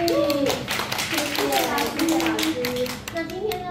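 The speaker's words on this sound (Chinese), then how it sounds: "我们再给郭老师一个掌声鼓励" An audience applauds an elderly woman teacher at an exhibition event, a dense run of claps sustained throughout at moderate loudness, with a voice and other talk faintly mixed underneath.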